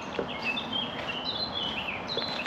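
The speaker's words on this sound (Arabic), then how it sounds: "صوت الطيور." Birds sing in a large forest, several high chirps and warbling calls overlapping at moderate distance over a soft outdoor hiss, with no talking.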